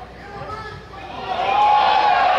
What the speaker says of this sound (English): Every time Popeye lands a blow, you hear the crowd cheering